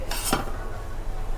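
Whole cumin seeds go into a cooking pot for mutton kasha, giving one brief, close clatter and rattle that fades quickly into quiet kitchen background.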